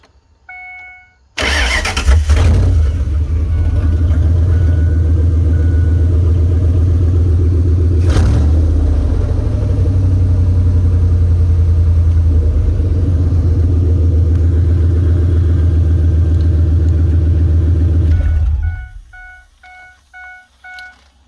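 A Ford Super Duty engine, its fuel pump broken, runs off a pressurized garden sprayer: it cranks and catches, idles loudly and steadily for about seventeen seconds, then shuts off, with faint electronic beeps before and after.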